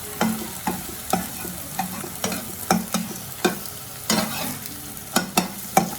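Eggs scrambled in a hot pan for egg fried rice, with a spatula scraping and tapping the metal in a steady rhythm over a low sizzle, close and clear.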